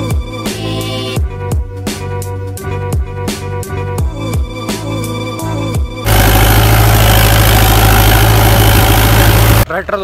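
A tractor engine idles up close with a rough, low, pulsing chug at first, then shifts into a louder, steady, broadband roar that continues to near the end; no speech is heard.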